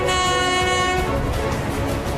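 A passing train sounds a loud, sustained horn for about a second over the steady rumble and clatter of rail cars rolling by close at hand.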